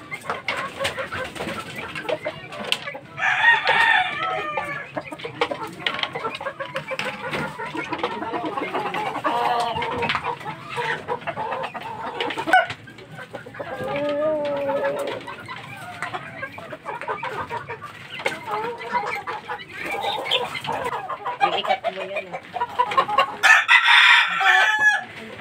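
Fighting cocks crow repeatedly and cluck close by, with several birds calling in overlapping bursts throughout, a loud crow rising near the end over a busy yard background.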